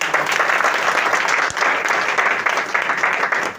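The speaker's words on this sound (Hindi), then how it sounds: "एक बार जोरदार ताली बजाओ।" An audience at a direct-selling motivational seminar in India breaks into loud, sustained clapping that keeps going evenly for several seconds, a dense wash of many hands close to the microphone.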